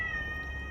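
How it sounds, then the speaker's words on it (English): A pet cat named Candy Corn meows in a single drawn-out, steady call, close by and clear against a quiet indoor background. "not only does my cat live here, Candy corn,"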